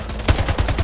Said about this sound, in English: Jeez, that recoil on this.